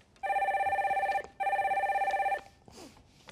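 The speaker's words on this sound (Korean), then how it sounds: "세 번째 전화 받아보겠습니다" A telephone rings for an incoming call-in on a broadcast: two long electronic trills, close and clear, followed by a faint shuffle as the line is picked up.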